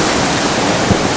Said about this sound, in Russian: А здесь можно послушать шум морской стихии.